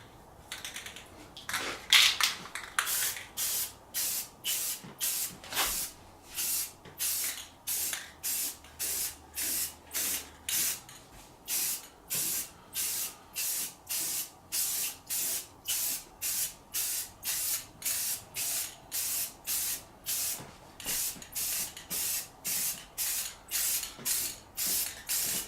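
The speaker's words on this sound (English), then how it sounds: "let's get the first coat of paint put on" Spray paint bursts from an aerosol can as a first coat goes onto a kettle grill chair indoors, with a long series of short, regular hissing puffs close by, preceded by a couple of can rattles.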